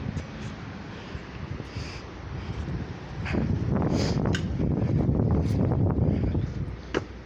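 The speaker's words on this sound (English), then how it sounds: "Well, the wind here." Wind gusts outdoors at a national finals obstacle course event, a rushing blustery noise with buffeting against the microphone that grows stronger in the second half.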